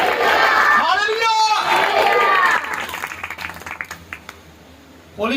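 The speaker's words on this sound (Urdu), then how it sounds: "زوردار تالیاں خدا کے روح کے لیے" Church congregation clapping loudly and cheering at a worship service, a dense burst of applause mixed with shouts that fades after a few seconds into scattered claps and voices.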